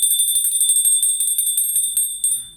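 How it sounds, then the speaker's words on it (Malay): A bell from an ultra-trail race kit is shaken in rapid, bright jingling strikes like a cowbell, ringing continuously and close before a final pair of hits; no one speaks. "loceng lembu, macam nak panggil lembu."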